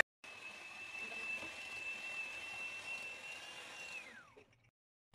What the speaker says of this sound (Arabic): هنا عندنا ثلاثه البيضات ورشه ديال الملح كما كتشوفوا، غنضربوهم هكذا